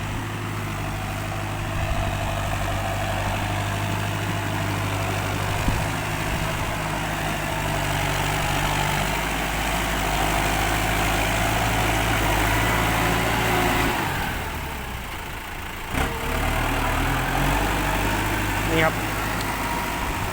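A New Holland T5060 tractor rated at 106 horsepower pushes and levels soil. Its diesel engine runs at a steady, fairly close low drone that dips briefly near the end and then picks back up.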